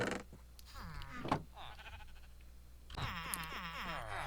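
Blocky video-game sheep bleat in short wavering calls, a couple early and a busier run near the end, over a steady game backdrop with a few soft mechanical clicks in between.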